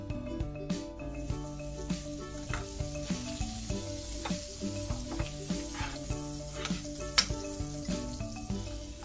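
Butter melts and sizzles in a hot pan around browned bacon-wrapped American giant scallops, a steady crackling fry with rhythmic stirring taps over a constant background hum.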